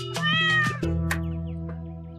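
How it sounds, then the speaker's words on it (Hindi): A kitten meows twice in quick succession, each a loud, close, tonal cry, then a longer drawn-out meow follows and fades gradually, with no talking. "बिल्ली के बच्चे की आवाज"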